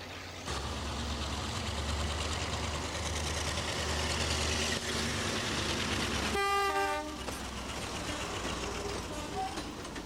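A British Rail Hymek diesel-hydraulic locomotive with a Maybach engine rumbles past with a heavy droning engine, sounding a loud two-tone horn partway through before the roar continues.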